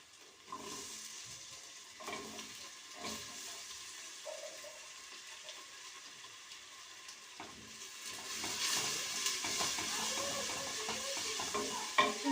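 Steady sizzling and frying of hot peppers in a pan with occasional stirring and clinks, growing louder and more hissing toward the end, no talking.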